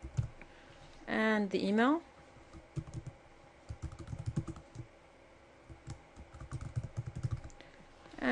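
Someone types a password and email on a computer keyboard, with a scatter of quick, light key clicks. A person speaks briefly near the start.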